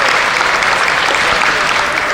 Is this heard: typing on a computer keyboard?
no